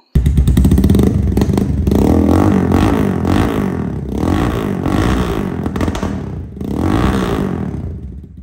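A Yamaha R1 250cc motorcycle roars loudly and close through its exhaust, holding a heavy rumble with several surging revs and a crackling, popping edge, with no talk.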